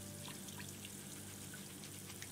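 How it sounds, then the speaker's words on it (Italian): Running water from a tap in the Toy Tinker Simulator video game, a steady faint trickling pour with no other sounds over it. "Chiudi il rubinetto che si spreca."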